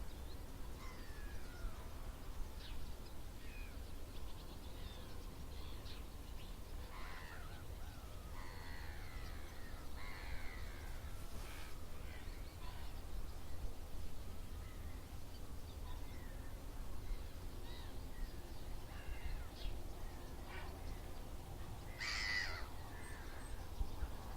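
Scattered bird calls, including harsh crow-like caws, ring out over a steady low outdoor rumble in a marsh, some near and some farther off.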